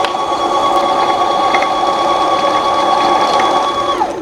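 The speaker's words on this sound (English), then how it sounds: "The bobbin is gonna fill up, and when it's done filling, it's going to start rubbing on this thing right here." A sewing machine winds thread onto its bobbin with a steady, close, high-pitched mechanical whine that holds evenly for about four seconds and then cuts off.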